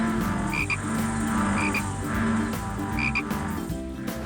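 A dense chorus of frogs croaking continuously, with repeated paired calls standing out over the steady din.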